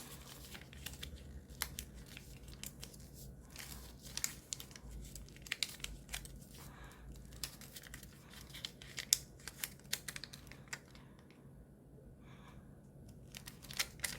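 Paper is creased and folded for an origami ninja spinning top, a steady run of soft crinkles, taps and quick scraping strokes, close and fairly quiet, with no talking.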